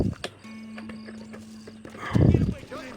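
A horse in the Red Dead Redemption video game, heard as hoof clip-clops followed by a neigh near the end, moderately loud in the game's mix with a faint steady tone underneath.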